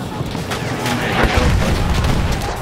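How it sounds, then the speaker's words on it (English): Enemy machine gun fire in Battlefield 1, a loud, dense rattle of shots with booming impacts packed together over a couple of seconds. "Machine gun. One of theirs."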